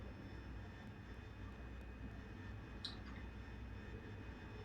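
A Harrier jet engine at combat thrust in the DCS flight game gives a constant, even turbine roar with a low rumbling body, steady throughout with a brief faint click near the end.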